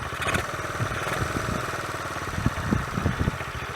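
A 1981 Honda CT110 motorcycle, a barn find long left rusting, idles steadily with a close, even low chugging pulse and a few slightly louder puffs near the end.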